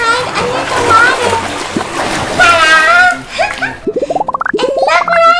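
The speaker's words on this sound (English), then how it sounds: "Like, can I splash water?" A child splashes water in a family bath, loud close sloshes and splatters at the start, with children chattering and squealing over the water.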